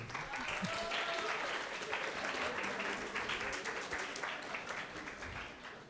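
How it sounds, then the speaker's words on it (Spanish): A school audience of students applauds a welcomed guest at a talk, a broad continuous wash of many hands clapping that stays even and fairly distant, fading slightly at the end, with voices mixed in. "Aplauso."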